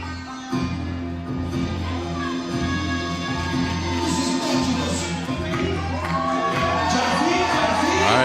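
A basketball crowd at a FIBA 3x3 tournament in Neom cheers and shouts steadily while a player hypes them up, a loud sustained roar with a rising swell, children's shouts and whoops mixed in.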